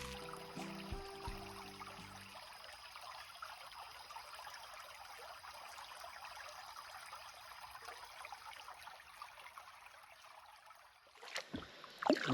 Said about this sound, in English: actually recording a creek